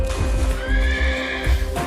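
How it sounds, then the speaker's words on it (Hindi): A cartoon horse, the mythical Uchchaihshravas, gives a loud, close neigh lasting under two seconds, with a faint clip-clop of hooves beneath it and no talking. "उच्चैश्रवा घोड़ा"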